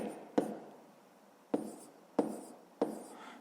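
A pen or pencil writes numbers by hand on paper, with four distinct soft taps spaced about a second apart, each followed by a faint scratchy trail, close and quiet.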